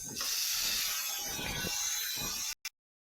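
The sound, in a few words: tomatoes sizzling with frying onion and chilies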